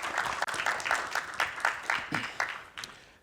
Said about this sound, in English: I want to give you all a huge round of applause for yourselves